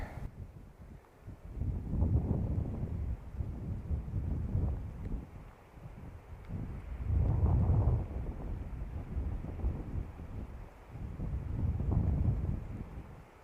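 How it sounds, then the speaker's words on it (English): Wind blows on the Arizona Trail in the morning, rising and falling in broad low gusts that swell to a roar every few seconds and then ease, with no voices over it. "we're protected from the wind a little, and it's blowing already."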